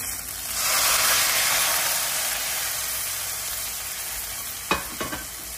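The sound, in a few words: tempering of garlic, curry leaves and dry chillies sizzling in oil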